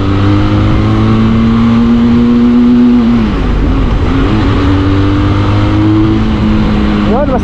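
A Benelli 502C parallel-twin motorcycle engine revs loudly and steadily up close, the pitch holding high for a few seconds, then dipping and rising again, with a voice speaking briefly over the engine.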